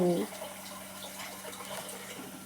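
Water is poured into dal batter made with toor dal and chilli for medu vada, a soft, continuous trickling splash heard close by with a brief louder sound at the start, while a person talks.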